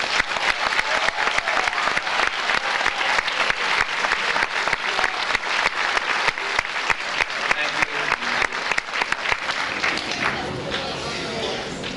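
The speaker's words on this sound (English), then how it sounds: "Please give these people a round of applause" Audience at an 8th grade graduation ceremony applauding the graduates, sustained crowd clapping with sharp individual claps standing out, tapering off over the last couple of seconds.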